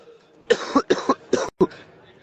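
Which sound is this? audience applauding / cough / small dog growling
cough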